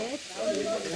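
Jackfruit seeds drop into a hot pan already holding garlic and spices for a Konkan-style jackfruit bhaji. A brief, soft sizzle sounds close by, with a faint voice-like tone mixed in.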